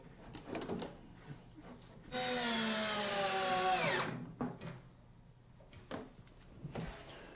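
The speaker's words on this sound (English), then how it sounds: "have to screw the hinges to the box itself" A power drill driving screws through hinges into a wooden box for a Dobsonian telescope, one whining burst of about two seconds that rises and then slows, set among quieter handling knocks and shuffles nearby.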